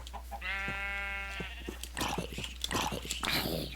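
A single drawn-out sheep bleat in the Minecraft mod TerraFirmaCraft, clear and close, followed by a jumble of softer in-game thumps and scuffles over a constant low hum.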